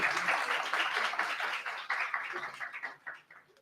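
Applause rises from an audience at a live-streamed pitch event, a dense, continuous wash of many hands clapping that stays fairly faint and distant before gradually thinning out toward the end.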